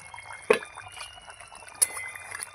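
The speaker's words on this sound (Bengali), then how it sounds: "এই যে মাছগুলো ফুটছে" Fish curry bubbling in a pot, soft liquid bubbling with two sharper pops, close and fairly quiet.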